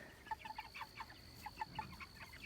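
Meat chickens in a barn give soft, quick clucks in a loose repeating rhythm, faint and close, with no talking.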